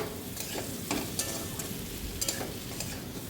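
Boiled elephant foot yam stir-fried in a pan for a yam and prawn curry, with steady frying sizzle and repeated scraping strokes of a spatula at an irregular rhythm, close up and without talk.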